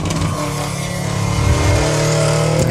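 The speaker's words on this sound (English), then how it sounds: "Very noisy car." A noisy Subaru WRX rally car at a sprint rally roars past loudly. Its dense, harmonic engine drone swells about halfway through and then holds steady, with no talking.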